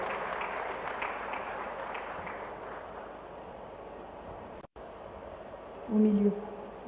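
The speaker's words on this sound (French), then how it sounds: "Sous vos applaudissements," Audience at a business-climate panel in the DRC applauding a government minister, a dense, moderately loud clapping wash throughout with a brief dropout and a short tonal blip near the end.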